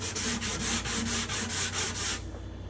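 Hand sanding of a wooden guitar top, steady rhythmic back-and-forth strokes, about nine even passes close up, then the scraping stops and faint room noise remains.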